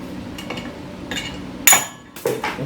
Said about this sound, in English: Let me get a big punch and drive that on out